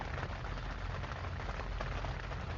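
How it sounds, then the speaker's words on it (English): Heavy thunderstorm rain pours down outside as a steady, dense hiss of drops drumming on surfaces, continuous and unbroken with no talking. "as you can hear, the rain got coming outside like crazy"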